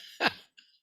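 A single sharp cough bursts out close to the mic, then a brief fainter breathy sound trails after it; no one speaks.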